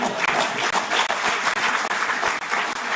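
Steady, dense applause from a large audience at a World Food Safety Day celebration, sustained and even for a few seconds with no voices over it.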